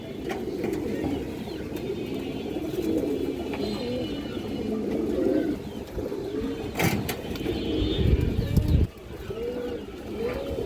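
A large black Bagha female pigeon and nearby pigeons coo in repeated rolling phrases, close and clear, over a low background hum with a few sharp clicks and knocks.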